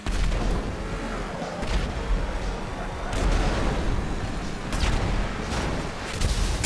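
Rapid, heavy booming shots of in-game artillery thud out in repeated loud bursts with short pauses between them, giving a chaotic barrage with low rumbling impacts. A voice can be heard faintly in the background.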